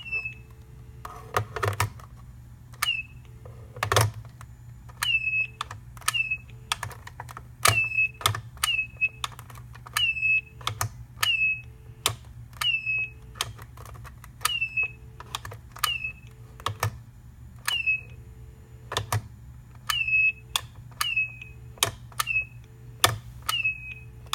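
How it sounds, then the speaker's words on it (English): A telephone receiver on a Stanford dorm phone being handled over and over: roughly twenty sharp clicks, each followed by a brief, high, chirping squeal, repeating at a steady pace with no talking. "it's actually kind of hard to pick up the receiver and not hear that squealing noise"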